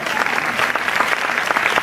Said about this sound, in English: Big round of applause for my wife.